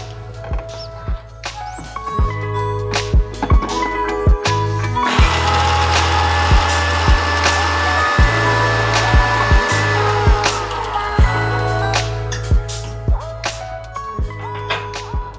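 A mixer grinder runs with a loud, steady motor whine while powdering roasted wheat flour for wheat laddu, the pitch shifting as it speeds up and slows, with short clatters and stops along the way.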